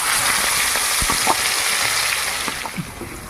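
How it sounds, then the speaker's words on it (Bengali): Sliced onion fries in hot oil as the base for a Latia fish curry, giving a loud, constant sizzle with occasional soft clicks and scrapes from stirring. "তেলের মধ্যে একটুখানি চিনি ফোড়ন দিচ্ছি ঠিক আছে এবার আমি পেঁয়াজটা দিয়ে দেবো"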